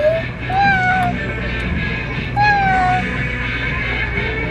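A cat meows several times, drawn-out rising and falling cries close by and fairly loud, with a steady low hum and muffled background noise underneath.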